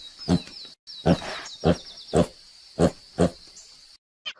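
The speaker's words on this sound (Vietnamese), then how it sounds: "Con lợn con." A piglet gives a series of short, repeated grunts and squeals in a steady rhythm, close and fairly loud, over a high continuous tone.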